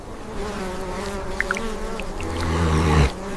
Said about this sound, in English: The insects are still there,